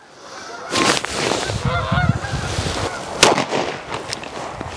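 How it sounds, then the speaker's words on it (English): Geese honk repeatedly in the background outdoors, with short broadband bursts cutting in and a steady outdoor wash underneath. "Can you hear all those geese in the background?"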